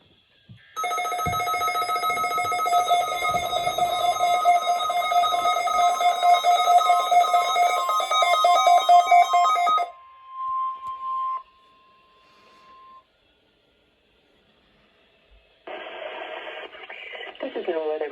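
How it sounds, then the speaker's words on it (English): A NOAA Weather Radio Emergency Alert System test for the Florida listening area: a long, loud, steady two-tone attention signal lasting about nine seconds, followed by short data bursts and a final burst of digital tones. "The preceding signal was a test of the public warning and alarm for transmitters in the Florida listening area."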